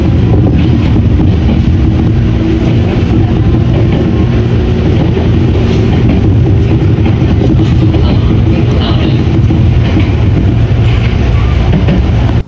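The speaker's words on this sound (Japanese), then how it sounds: "電車はいよいよ弁天橋に到着いたします。" A Series 205 electric train runs along with a steady, loud low rumble and a constant rushing hiss that does not let up.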